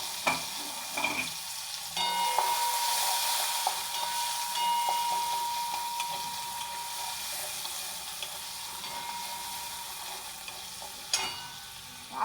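Onion, garlic and eggplant fry in a pan, a steady sizzle with intermittent scraping stir strokes throughout, fairly close and alone without talk.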